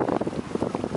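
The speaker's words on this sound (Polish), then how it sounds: "Właśnie wypłynęliśmy z portu," A motorboat heading out of a Norwegian port onto open water rumbles under gusting wind buffeting the microphone, a loud, choppy and continuous roar.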